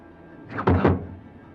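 A single heavy door thuds shut close by, a short dull impact with a brief rumbling tail, heard alone against a quiet background during a horror drama episode.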